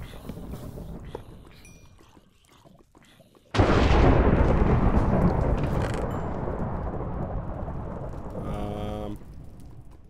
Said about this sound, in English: Oh god, there's so much lightning around.